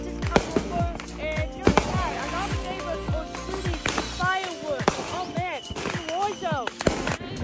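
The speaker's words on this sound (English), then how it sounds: "Can you hear that? That is fireworks." Fourth of July fireworks going off outdoors, a string of sharp pops and crackling bursts, some close and loud, some farther away, with whistling rises between them and people talking over the noise.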